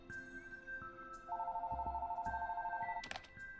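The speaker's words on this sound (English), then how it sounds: "It's a relatively modern phone ringing noise for the 70s." A modern-style phone ringing in the video game Raptor Boyfriend, sounding as a steady electronic trilling tone over quiet game ambience, with a low pulsing layer under it and a brief chime near the end.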